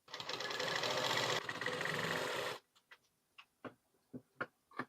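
A sewing machine stitches piping onto a blouse in a loud, fast, steady run for a couple of seconds. It stops abruptly and a few sharp mechanical ticks and clicks follow.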